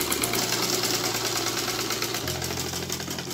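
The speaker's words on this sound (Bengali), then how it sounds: "এই পাশে কিন্তু হাতা এইভাবে সেলাই করে নিতে হবে, তো দুই পাশে কিন্তু হাতা সেলাই করতে হবে।" An electric sewing machine stitching the sleeve of a panjabi runs as a continuous, steady motor whir with a rapid needle rhythm, close and even, with a slight shift in pitch partway through.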